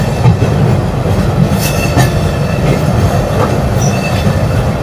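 Puri–Howrah Shatabdi Express slowing down, a close, loud rumble of rolling wagons with rhythmic wheel clatter and occasional squeals and clicks from the rails, no voices.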